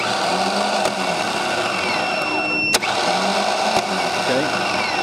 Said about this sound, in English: But the starter is spinning.